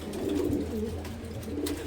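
Pigeons in a loft cooing continuously, a steady low throaty murmur of several birds, close and fairly loud with no talk.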